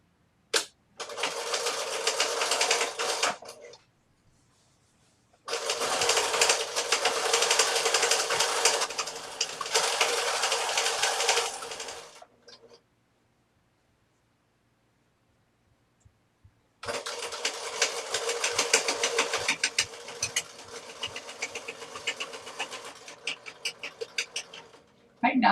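Sewing machine stitching a pillowcase seam in three long bursts of rapid clattering stitches, close and loud, broken by silent pauses while the fabric is turned at a corner.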